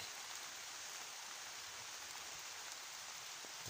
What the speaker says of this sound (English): The rain is considerable.